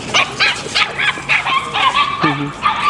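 A small dog yips and barks in quick, high-pitched bursts close by, with several sharp yaps and a short whimpering yelp, repeated over a few seconds while a larger dog is nearby.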